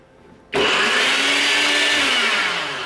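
A Nutribullet blender kicks on abruptly and runs loud and steady, whirring through frozen fruit and banana for a thick smoothie bowl, its pitch shifting slightly as the load changes, with no talking.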